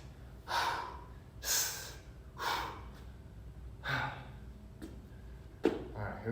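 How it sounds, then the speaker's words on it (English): Heavy breathing during a kettlebell workout built on hip hinges, with about six forceful, close breaths in a steady rhythm, each a sharp exhale or gasp, and no talking. "I'm breathing out every time I'm doing a concentric."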